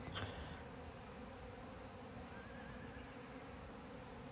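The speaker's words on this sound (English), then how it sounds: "there is a honeybee highway with hundreds of thousands of honeybees going back and forth" A steady, dense buzzing of hundreds of thousands of honeybees flying back and forth fills the air, a continuous insect drone with no voices.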